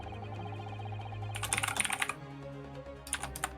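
Rapid clatter of keyboard typing from the video game Great Ace Attorney Chronicles, two quick bursts of keystrokes over a steady musical background with no voices.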